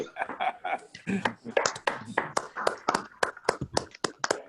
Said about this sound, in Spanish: pedir es un aplauso para Antonio Arbo